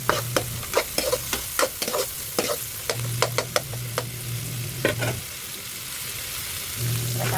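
Garlic sizzles softly in hot oil with cooked onion, while a utensil scrapes and taps the pan in repeated sharp strokes, then settles into a quieter, steady fry.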